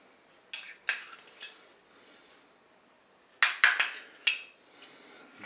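A spoon stirs mustard into a courgette and parmesan gratin inside a Cookeo cooker's metal bowl, giving a few sharp metallic clinks in two short clusters with quiet gaps between, close by and with no talking.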